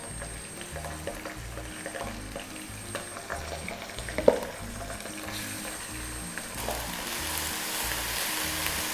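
Ginger and garlic paste sautés in a pan with a steady crackling sizzle, punctuated by rhythmic stirring scrapes and a sharp clink midway, close and alone.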